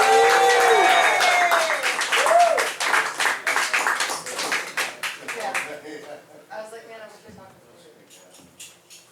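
An audience claps to welcome a spoken word performer onto a stage, with loud clapping and a voice over it at first, then the applause thins into scattered claps as a person starts talking.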